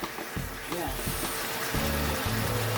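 Chicken wings with oyster sauce frying and being stirred in a pan, a steady loud sizzle with scraping stir sounds and occasional clunks throughout.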